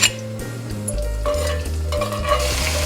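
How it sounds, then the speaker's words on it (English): Whole cardamom, cloves and cumin seeds hit hot oil in an Indian cooking pan, a loud continuous sizzle with crackling spatter and a few metal clinks, steady throughout and no talking. "My oil is heated up. I'm just going to add it in and let it splatter."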